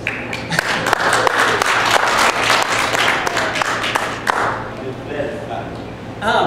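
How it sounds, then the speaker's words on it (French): Men of a church congregation clap together in a dense burst of applause lasting several seconds, fading out near the end, with voices mixed in. "Est-ce que les hommes peuvent applaudir?"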